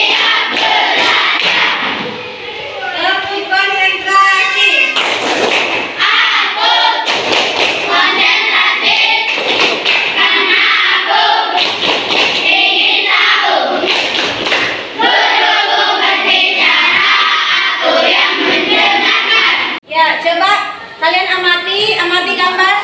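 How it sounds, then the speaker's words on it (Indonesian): A classroom of children claps through a concentration clap chant, with loud bursts of group clapping in patterned rhythms alternating with chanted voices and talk, close and lively. "Tepuk lima. Tepuk konsentrasi."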